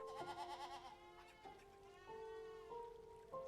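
Goats bleat in the video game A Story Beside, a run of wavering, nasal cries that overlap and repeat, loud and close, with no talking over them.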